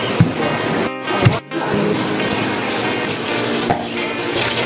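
Water pours steadily and loudly into a cooking pot for a seafood and seaweed soup, a dense continuous splashing rush broken by two brief pauses before resuming.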